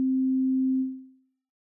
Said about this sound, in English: So we just have a sine wave coming out here.